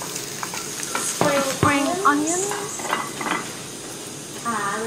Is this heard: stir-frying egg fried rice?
yes